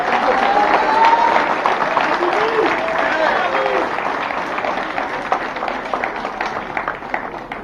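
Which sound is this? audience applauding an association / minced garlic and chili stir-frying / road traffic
audience applauding an association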